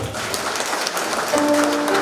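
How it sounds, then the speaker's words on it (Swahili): Audience applause at a gathering, sustained for about two seconds as a dense, steady clatter of clapping hands, with a thin tone sounding faintly over it near the end. "tuwapige makofi tena."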